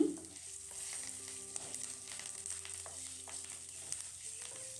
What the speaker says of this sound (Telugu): ముందుగా కట్ చేసిన పచ్చి కొబ్బరి వేసుకొని ఫ్రై చేసుకోవాలి